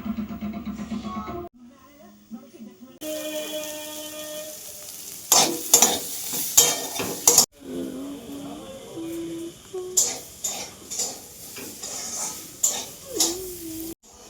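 Home cooking in a pot with a spoon scraping and stirring in bursts, sharp clatters and sizzling frying between quieter stretches, with short pauses where the sound drops away.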